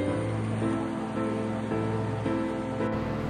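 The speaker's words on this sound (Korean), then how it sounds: "폭포 내리는 게 진짜 멋있네요" Glacier meltwater pours down a waterfall in the Swiss mountains near Saas-Fee, a steady, dense rushing roar that fills the whole clip without pause.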